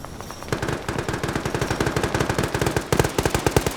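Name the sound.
machine gun fire in a video game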